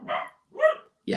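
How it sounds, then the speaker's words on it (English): A dog barks in short bursts indoors, with distinct loud barks separated by brief pauses, close to the microphone. "And the dog's barking."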